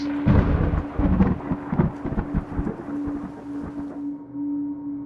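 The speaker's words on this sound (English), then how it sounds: "The winds can be heard picking up, the charcoal black clouds swell, and soon the ghost rain will come." Deep rolling thunder from a storm, with a heavy rumble that crashes early and fades, over a steady low hum and a faint hiss like rain.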